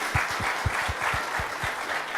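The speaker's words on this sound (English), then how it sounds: "So give them a round of applause again for that." Applause from an audience at a FIRST robotics team-building talk, a dense steady patter of clapping with a few loud individual claps standing out near the front.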